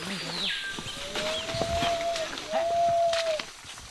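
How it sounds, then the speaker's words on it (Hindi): Spider monkeys calling from roughly 500 metres away in jungle, long drawn whistling calls rising and sliding, two or three sustained cries over faint background rustle and insects, distant and thin. "अब हम मकड़ी बंदर की आवाज सुन सकते हैं।"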